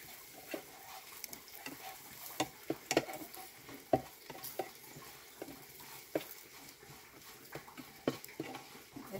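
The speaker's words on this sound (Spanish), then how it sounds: "Mientras se acaba de dorar aquí la tortilla" Tortilla pieces frying in a pan for chilaquiles while being stirred, with a soft steady sizzle broken by irregular scraping and clinking taps from the utensil, close and quiet.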